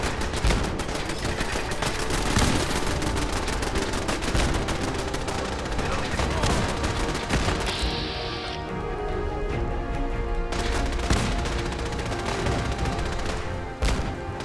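Turrets in the Fallout 4 video game open up with dense, sustained rapid gunfire and booming impacts that stay loud and continuous throughout, with brief shifts in intensity and some voices mixed under the barrage.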